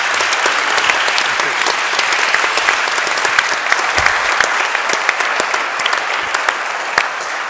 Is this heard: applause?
yes